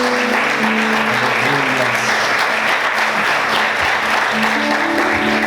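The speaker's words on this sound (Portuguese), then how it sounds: "Você pode aplaudir o Senhor." A church congregation applauds steadily in a dense wash of clapping, with sustained musical tones and faint voices underneath throughout.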